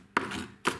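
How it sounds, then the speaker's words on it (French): A kitchen knife dices gluten-free pizza ingredients into small squares on a board, two crisp chops about half a second apart, close and clear with no talking. "on le découpe en petits carrés"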